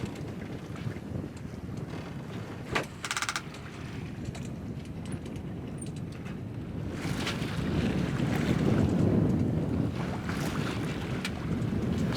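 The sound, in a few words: wind on a solo-sailed sailboat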